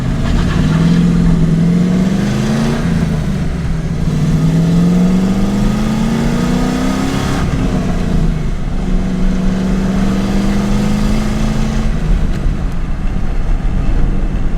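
A turbocharged 5.0-swapped Ford Ranger cruises along, its engine droning steadily with rising and falling tones as it shifts through gears, loud and continuous with no talking.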